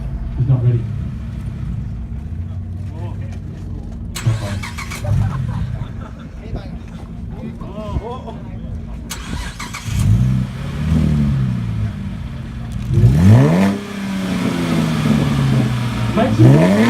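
A car engine at a rev battle meet in Melbourne starts and revs hard in repeated rising bursts with loud low rumble, under a crowd and an announcer talking.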